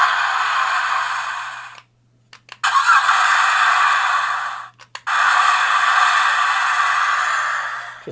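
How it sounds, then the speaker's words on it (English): A toy T-Rex car's button plays electronic engine rev noises, loud and close, in two long bursts separated by brief gaps, with no talking. "you've got another button which makes the car noises."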